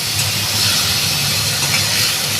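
Pumpkin greens hit hot oil already seasoned with fried lentil dumplings, five-spice seeds and dried chillies, giving off a loud, steady, close hiss with no pauses.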